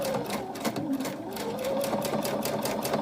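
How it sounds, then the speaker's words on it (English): A domestic sewing machine quilts a pillow cover, its needle hammering in a fast, steady rhythm with a whining motor tone, loud and close throughout. "this is my domestic machine"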